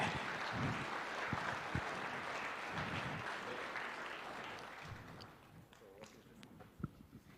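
Sustained crowd applause from an audience at a State House event, moderately distant, gradually thinning out toward the end.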